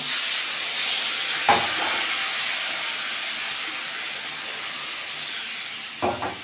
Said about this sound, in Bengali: এখন জল দিয়ে দেবো